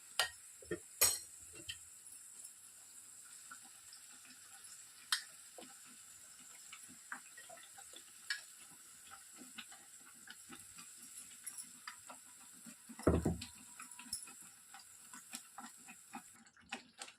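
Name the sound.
tomato pachadi stirred while cooking on low flame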